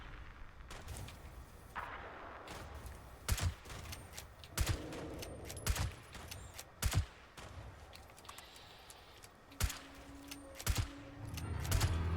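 Gunfire in the Fallout 76 video game, a run of sharp repeated shots spread across the stretch, some in quick clusters, over a steady game background with no talk.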